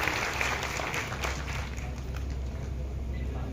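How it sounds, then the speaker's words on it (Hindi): Crowd applause at a governor's speech, a broad, continuous clapping that stays fairly steady and moderately loud through the short stretch. "तालियां बजाने के लिए बहुत बहुत धन्यवाद"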